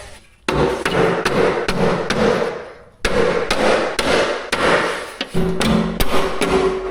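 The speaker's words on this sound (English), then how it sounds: "Maybe need a little hammer." A hammer strikes metal in a series of sharp, ringing blows at an uneven pace, folding metal on an off-road gooseneck trailer, loud and close, with a brief pause midway.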